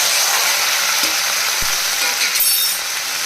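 Bitter gourd pieces tossed into a hot frying pan: a loud, dense sizzle fills the whole moment, steady and close, with a faint clink or two of a utensil and no talk.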